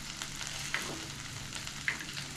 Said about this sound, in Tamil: சட்டி சூடாயிடுச்சு. குழம்பு தாளிக்க எண்ணெய் சேர்த்துக்கலாம்.